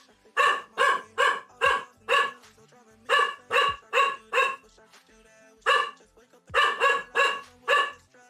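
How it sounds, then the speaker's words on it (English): A pet dog barks in repeated bursts of several sharp, loud barks close by, with short pauses between groups. "Sorry about my dog who's barking."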